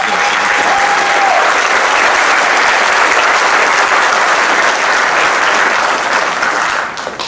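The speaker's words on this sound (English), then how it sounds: "Can we give them all one more round of applause?" Sustained loud applause from a large audience for the graduating class at a 2023 high school graduation ceremony in the Barker Central School District, steady throughout and tapering slightly at the very end.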